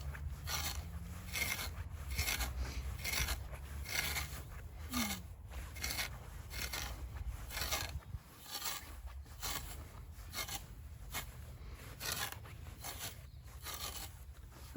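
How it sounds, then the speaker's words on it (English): A strong, sharp rake scrapes moss and dead grass out of a lawn in repeated raspy strokes, a steady scratchy rhythm close by and fairly quiet throughout. "this particular tool, this particular rake, is very, very effective indeed"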